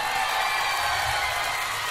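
At a live concert in Japan, an audience applauds a band member with a steady wash of clapping and crowd noise, fairly distant and continuous.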